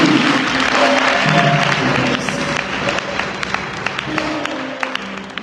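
Church congregation applauding and acclaiming the Lord, a loud, sustained wash of clapping from many hands with voices mixed in, tapering into scattered individual claps toward the end.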